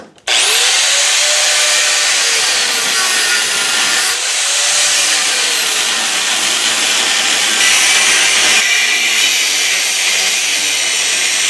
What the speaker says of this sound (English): I'm going to get the grinder out and cut it off.